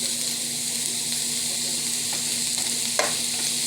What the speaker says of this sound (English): you let these saute a little bit till the onions get caramelized, and then I'm gonna mix it all together